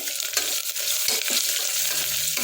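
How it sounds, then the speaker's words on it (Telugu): Ginger sizzles and fries in hot oil while being stirred in a pan, an early step in making tomato rice; a steady close crackle with scraping stir strokes, and no talking. "మంచిగా నూనె మంచిగా వేగాలి అల్లం వేసుకోవాలి"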